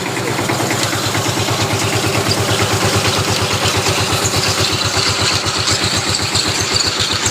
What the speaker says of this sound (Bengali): মেশিনের মধ্যে কিন্তু ধান ঢেলে দিয়েছে চিরায় পরিণত হবে কিছুক্ষণের মধ্যেই